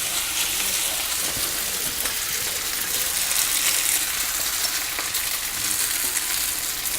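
Food fries in a hot pan with a steady, bright sizzle and crackle that holds evenly throughout, close and fairly loud with no talking.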